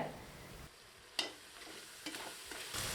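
Masala powder with a handful of mint and coriander leaves sizzles quietly in a pan for a parboiled rice veg biryani, with a few scraping stirs of a spoon, faint and close, no talking.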